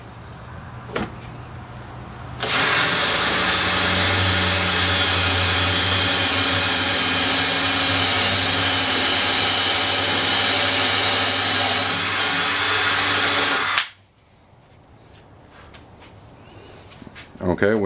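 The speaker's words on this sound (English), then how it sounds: "Tyler is about to drill the holes in the side of the leaf to hold the dowels" A drill boring 3/8-inch dowel holes into the side of an oak table leaf through a centering jig: a loud, continuous whirring drone lasting about eleven seconds, starting and stopping abruptly, close by.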